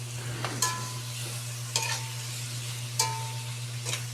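A spoon stirs a pot of chicken tinola with lemongrass, a steady sizzle running underneath and a few sharp scrapes against the pot at regular intervals.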